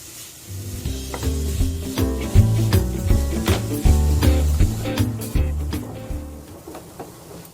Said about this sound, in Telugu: లో ఫ్లేమ్లో పెట్టుకొని ఇలా కలుపుకోవాలండి